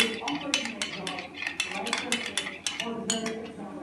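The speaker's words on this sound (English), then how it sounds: "I'll give it a little more mixing" A spoon scrapes and clinks repeatedly against a bowl while aloe vera face paste is stirred, a quick irregular series of light metallic taps and scrapes, fairly quiet.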